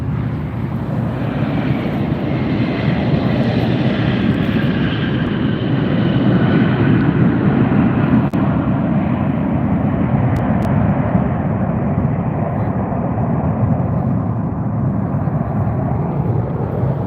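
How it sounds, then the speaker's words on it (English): Airliner landing at Las Vegas airport (LAS), heard as a steady, loud, broad jet engine roar sustained throughout with no talk over it. "Here's another plane landing."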